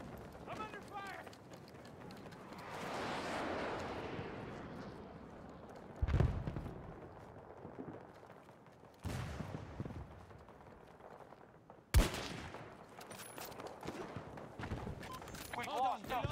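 Gunfire in Battlefield 2042, scattered shots and sharp impacts including two loud cracks, mixed with running footsteps and a background battle din, while voices shout over it.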